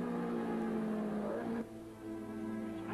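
A race car engine holding high revs on a race track, a sustained droning whine that drops in pitch partway through, moderately loud with a steady background and no talk.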